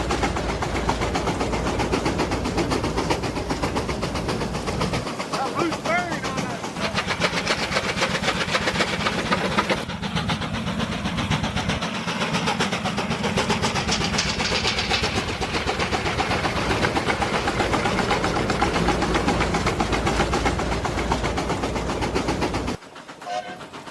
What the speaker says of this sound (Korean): 바로 이 트랙터가 디젤이 아닌 석탄으로 작동한다는 사실인데요.